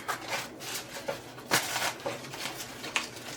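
Floral arrangement material is trimmed with a cutter, giving repeated close, dry rasping strokes in an uneven rhythm at moderate loudness.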